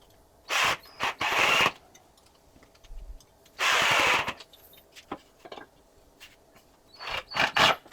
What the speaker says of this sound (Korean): 아래 고정 나사를 돌려 고정해 줍니다.